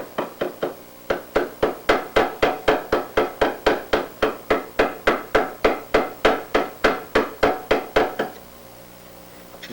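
A metal fuel tube is flared with rapid, evenly spaced hammer-like taps, roughly two dozen close metallic knocks in a steady rhythm that stop abruptly near the end, with no talking.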